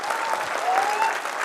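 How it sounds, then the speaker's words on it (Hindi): Dense, steady clapping from a large seated audience at a business felicitation event in Mumbai, continuous and fairly loud throughout with a faint murmur of voices underneath. "ताली मारिए अपने लिए"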